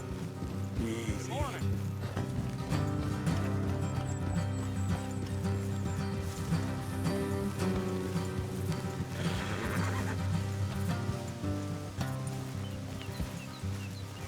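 Horses in Red Dead Redemption 2 neigh and whinny over clip-clopping hooves on a road, set within a dense game score of music and ambient effects that stays loud throughout, with brief voices.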